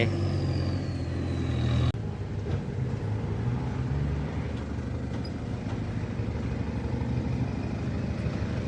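Small pickup truck hauling dirt up out of an old pond while it is being dredged, a steady engine drone and rumble with low mechanical noise, continuous and fairly close throughout.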